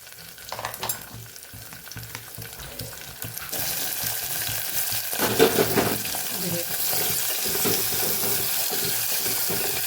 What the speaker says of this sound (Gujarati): પછી વેજીટેબલ ઉમેરીને સરસ આપણે સાતડી લેવાનું છે બધું